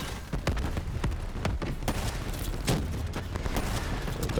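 Rapid bursts of gunfire during a boss fight in Call of Duty Black Ops 3, repeated sharp shots in quick rhythm throughout, loud and close with a heavier boom partway.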